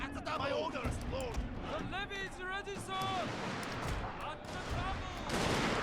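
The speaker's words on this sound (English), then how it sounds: "Got guys up here, giving us some cover fire." Gunfire in a war strategy video game, with shots and bursts crackling at a moderate distance beneath almost continuous talking.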